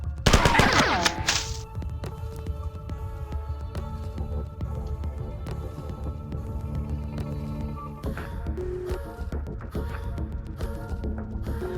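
Rapid automatic gunfire in a Bungie shooter game, a loud opening burst followed by sustained rattling fire with a steady electronic hum beneath it.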